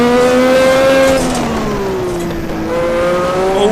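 An F1 car engine in the Ninja Turbo racing game at Adelaide screams loudly and steadily, with pitch sliding down through downshifts and climbing again as the wheels spin, with no gaps in the engine noise.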